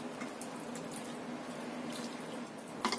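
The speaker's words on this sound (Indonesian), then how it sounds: "Kemudian kita tiriskan tempenya, kita saring." Half-cooked tempeh is drained through a strainer, giving a soft, steady trickle of running water with faint drips and a small splash near the end, quiet and without talk.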